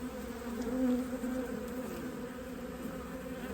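A honey bee swarm buzzes steadily and loudly close by, a dense continuous drone from many bees moving from a roof toward a neighboring property.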